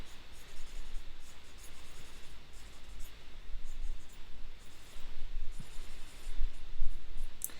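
Graphite pencil scratching and scribbling across paper in steady, rough strokes, close and continuous with no talking.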